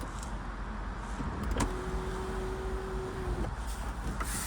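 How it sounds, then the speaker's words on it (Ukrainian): A 2013 Volkswagen Jetta 1.8 petrol sunroof motor runs in one steady electric whine of about two seconds, close by inside the car, set against a constant low cabin hum. "Люк працює, без нарікань."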